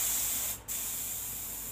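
A steady hissing paint spray gun runs throughout with a brief sputtering dropout midway, fairly close and with no voices.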